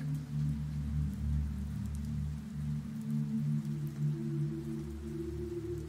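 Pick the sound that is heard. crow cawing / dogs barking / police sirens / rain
rain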